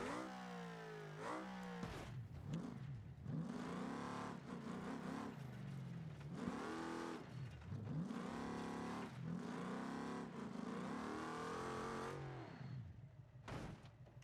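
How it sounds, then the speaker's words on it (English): A monster truck engine in the BeamNG.drive game revs repeatedly, rising and falling in loud whining sweeps over a steady drone, with a brief high burst near the end. "I do love the sounds of this car."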